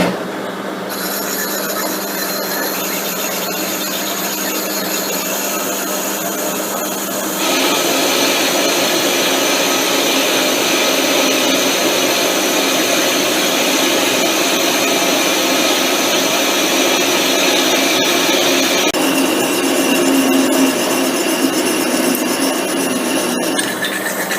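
A metal lathe drives a parting tool through stock to cut off a disc, giving a loud, continuous high whine and cutting hiss that shifts and intensifies as the cut deepens.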